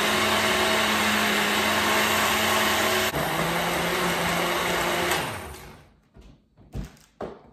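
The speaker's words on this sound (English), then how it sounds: "we're gonna go ahead and blend that up" Countertop blender whirring steadily through smoothie ingredients, a loud continuous motor drone that shifts pitch midway, then cuts off, followed by a few clunks.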